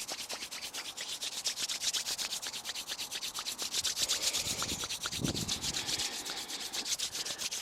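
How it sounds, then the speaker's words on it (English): Hands and fingertips rubbed briskly together in a quiet yoga setting, a close, soft, steady swishing friction with rapid back-and-forth strokes and no voice. "create energy between the fingertips. Rub, rub, rub."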